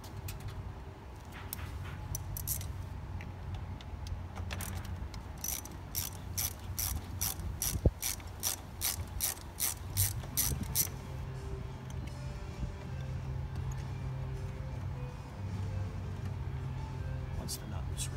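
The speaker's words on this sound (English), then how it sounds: "You'll find a 13mm nut underneath." A ratchet wrench loosening a 13mm nut on a power supply stud of a 2010 Dodge Challenger, a quick run of sharp clicks in the middle, with quieter handling sounds and a voice speaking around it.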